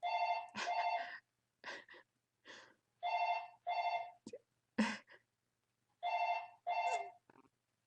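Mobile phone ringing with an incoming call: a repeating electronic ringtone in short bursts, loud and close, with pauses between the phrases and no talk over it.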